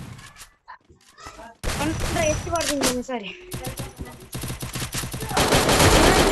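Shotgun blasts and bursts of gunfire in a video game sound in rapid, loud volleys, with game effects around them and someone speaking briefly over the action.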